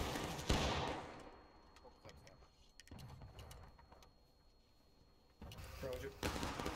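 Scattered musket shots crack in a War of Rights online battle, some near and sharp, others distant, with mechanical clatter between them and voices talking over much of the action.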